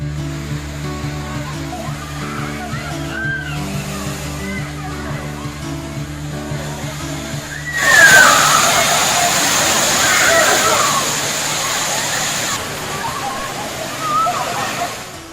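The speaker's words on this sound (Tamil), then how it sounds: "கும்பக்கரை அருவியில் தண்ணீர் ஆர்ப்பரித்து கொட்டுகிறது" Kumbakkarai waterfall near Periyakulam in Theni district, swollen with water, roars loud and steady with a broad hiss through the second half, after an opening stretch of background music, while a voice talks over it.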